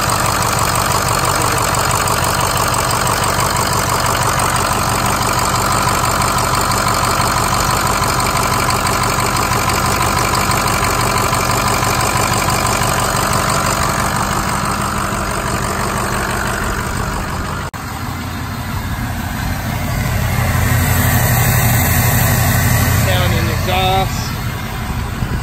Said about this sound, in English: You have a bit of a squeaky bearing.